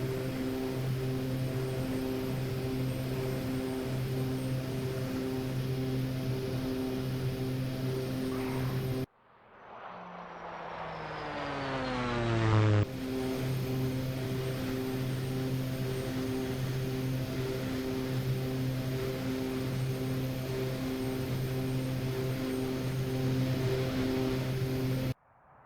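A simulated OV-10 twin-propeller aircraft drones steadily and loudly in a flight game, a sustained engine hum that cuts out briefly and then returns at full strength.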